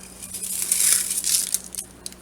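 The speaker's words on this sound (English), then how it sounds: "I'm going to add some onion flakes to it, some dried onion flakes." Dried onion flakes tumble into a pot of beans with a dry, close crackle and crunching rustle that swells in the middle and tapers off into a few scattered ticks.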